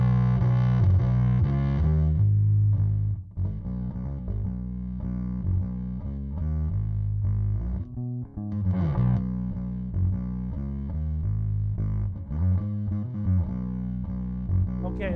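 Electric bass played through an Apocalypse distortion stomp box while a band is recorded, a thick, gritty, sustained low tone with a steady run of notes and a few short breaks, loud and alone without talk.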